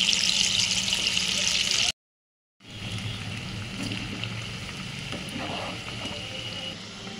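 Potatoes for potato 65 deep-fry in hot oil, a steady hissing sizzle broken by a short silent gap, then a continued bubbling fry at moderate level.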